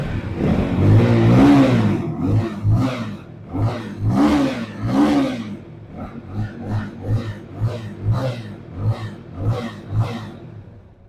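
A Batllo SR 200 motorcycle, 2024 model with a balance-shaft engine, is revved in repeated bursts: a few strong throttle blips early, then a series of shorter, lighter revs settling back to idle, close-up and without talk.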